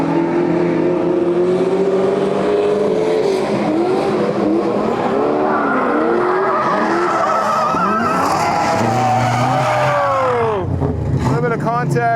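Tires squeal and engines rev hard as cars drift at a grassroots Midwest event, including an LS-powered Subaru BRZ, a stroked LS3 car and a Miata, with long sliding screeches and a voice talking over the loud continuous action.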